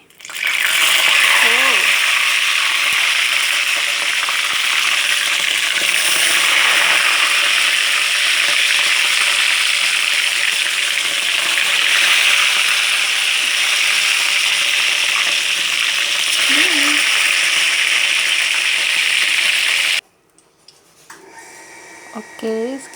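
Tongkol tuna fish frying in hot oil for Minang-style balado, a loud, continuous sizzle and crackle close by that stops abruptly near the end, followed by quieter clinks and handling.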